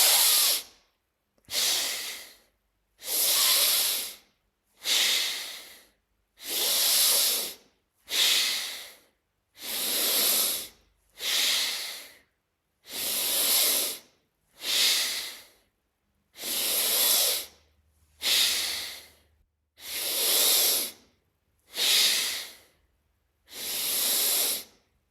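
Forceful yogic bellows breathing (Bhastrika) during a timed round, with loud, rhythmic bursts of breath. Roughly fifteen strong, hissing breath pulses follow one another steadily over about twenty-five seconds, each separated by a brief pause, close to the microphone.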